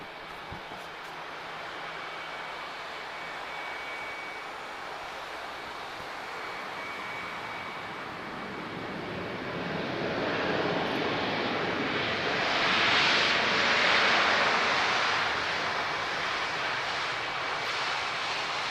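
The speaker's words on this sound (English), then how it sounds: "we're looking at an A320-232. So this is the V2500 series of engines, so a slightly different sound from the ones we've heard already." An Airbus A320-232 jet with V2500 engines roars at an airport, a broad steady rush that swells louder toward the end as it passes close by.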